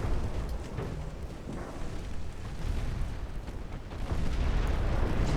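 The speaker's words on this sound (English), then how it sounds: "That looks like a torpedo hit though." A torpedo strikes a ship in a naval war game during a Greek campaign, and the impact swells into a heavy, rumbling explosion with a deep, sustained roar that grows louder near the end.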